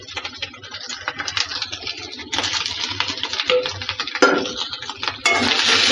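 Fried soybeans tipped into a biryani pot, making a dense scraping, rattling clatter that grows louder and busier toward the end, with no voices heard.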